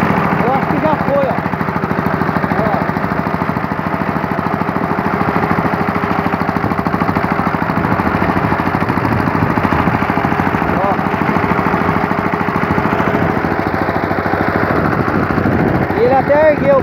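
A worn Yanmar Tobata walking tractor with a slipping clutch runs continuously, its engine chugging with a rapid knocking rhythm as it labours, while someone talks over it.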